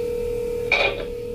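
Telephone dialing, a short burst of electronic keypad tone lasting about a third of a second over a steady background hum, no voices.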